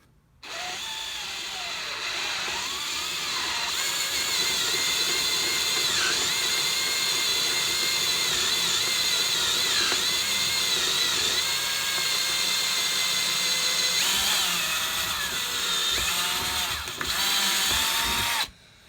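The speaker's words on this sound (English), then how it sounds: "So I'm going to go and drill the next size up now." Power drill boring 6mm holes through motorcycle handlebar risers for a Kawasaki Ninja ZX9R streetfighter, a loud, close, continuous high whine with slight pitch wavers, starting and stopping abruptly.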